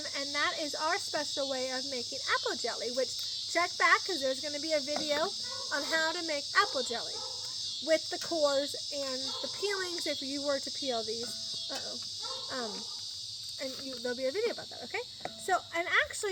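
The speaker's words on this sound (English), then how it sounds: "You have to excuse the noise of the cicadas." Loud, steady buzzing drone of cicadas at night fills the air continuously, running beneath a person talking in a homestead kitchen.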